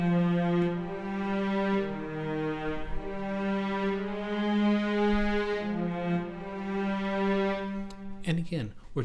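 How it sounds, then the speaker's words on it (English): A sustained cello part from a string arrangement plays long bowed low notes in simple two-bar phrases, moderately quiet, ending with a short noisy burst. "our cello part will sound like this."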